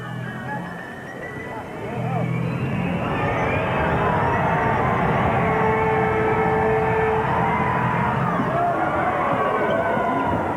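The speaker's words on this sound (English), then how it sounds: "The crowd's really giving it to Shane" A basketball crowd at a 1994 NBL game between the Newcastle Falcons and Brisbane Bullets jeers a player, a loud, sustained roar of voices that swells after a quieter start.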